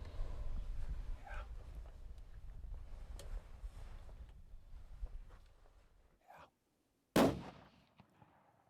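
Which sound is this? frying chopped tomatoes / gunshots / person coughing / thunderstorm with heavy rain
gunshots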